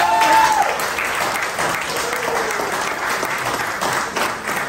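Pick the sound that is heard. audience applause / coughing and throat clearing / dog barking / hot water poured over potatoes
audience applause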